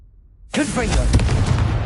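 A Confringo blasting spell goes off in a video game as a sudden loud booming explosion after near silence, rumbling on under an excited voice casting it.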